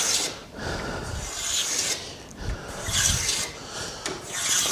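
Hand filing a chamfer on wooden drawer cock-beading, a close, continuous rasping of file strokes rubbing back and forth across the wood in a steady rhythm.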